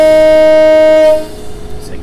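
A Class 317 electric train in Train Simulator 2017 sounds a loud, steady horn-like tone that cuts off after about a second, giving way to lower rumbling traction noise as it pulls away.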